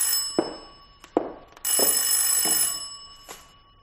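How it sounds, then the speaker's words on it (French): Old telephone ringing in a French radio mystery drama, with several sharp metallic bell rings followed by a long sustained ring, loud and close, with no voices over it. "Allô, commissaire Roland à l'appareil."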